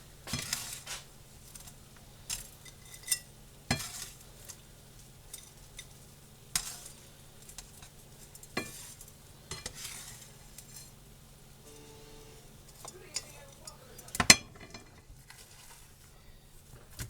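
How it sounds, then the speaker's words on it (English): Eggs cook in a pan for a pantry meal of smothered hashbrowns, with a faint background sizzle broken by scattered taps and scrapes of a utensil flipping and breaking them up, and one sharper clack near the end. "One more flip on the eggs. Break them up a little."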